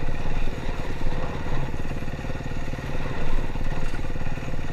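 A KTM motorcycle engine rumbles close by, loud and continuous, with a throbbing, slightly rough tone throughout.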